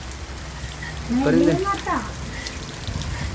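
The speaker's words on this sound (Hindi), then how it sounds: "अभी भी बारिश हो रही है, ये देखें अभी भी बारिश हो रही है।" Steady rain falls outdoors as a soft, even hiss, with someone talking close by over it.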